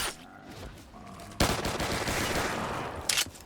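Gunfire from a weapon in the Call of Duty Black Ops 3 zombies mode, a loud sustained burst of rapid shots followed by a sharp louder report near the end, with no talk.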